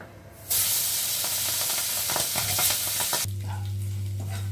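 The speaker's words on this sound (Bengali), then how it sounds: "মাছের মাথাটা ভাজা হয়ে গেছে," After a quiet start, a fish head hits hot oil in a pan and sizzles loudly with crackling bursts and stirring. The sizzle then drops to a softer fizz over a steady low hum.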